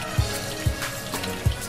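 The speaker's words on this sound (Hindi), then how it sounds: "बीजों को वॉश करने के लिए कोई भी जाली वाली टोकरी लेंगे, हम इनमें बीज डाल देंगे और डायरेक्ट पानी के नीचे इसे वॉश करेंगे।" Melon seeds being washed by hand in a mesh strainer under running tap water, a steady close splash of flowing water with a few soft thumps of hands working the seeds.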